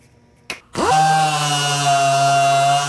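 A dual-action sander running on aluminum with 320-grit dry sandpaper: a brief tap, then a steady loud whine starts up and holds with a sustained tonal hum, alone without talk.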